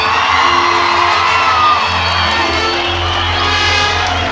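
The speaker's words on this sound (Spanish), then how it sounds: "Un aplauso para mi agrupación." A loud crowd cheers, whoops and yells at a carnival in Catamayo, Ecuador, with sustained shouting from many voices close by, over a steady musical hum.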